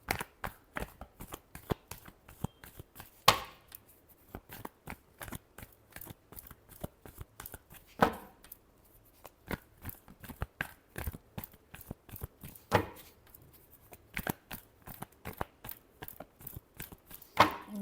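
Tarot cards being shuffled by hand, a long run of crisp riffling and flicking taps in irregular bursts, close and fairly quiet, with a few louder snaps.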